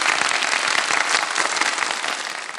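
Studio audience applauding at the opening of a televised quiz competition, a dense, loud burst of clapping that carries on steadily throughout without any speech.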